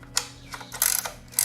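A ratchet snugs down valve cover bolts on a Toyota engine, giving a few short bursts of quick metallic pawl clicks at uneven intervals, close and distinct over a faint background hum.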